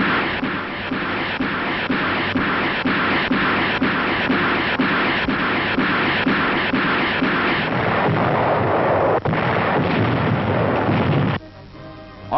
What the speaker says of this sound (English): Terrific rocket barrages level shore defenses.